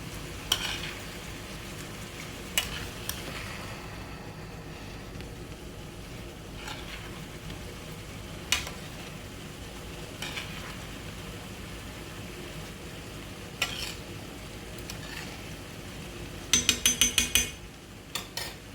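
Food sizzles steadily in a hot pan while being basted, a continuous frying hiss broken by occasional light clinks of a utensil and a flurry of metallic taps near the end, with no one speaking.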